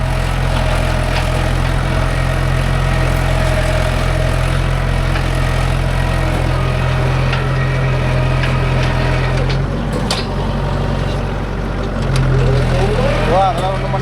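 A Mahindra 575 DI tractor drags a nine-tine spring cultivator through a field, its diesel engine droning loud and constant with a deep, steady rumble throughout.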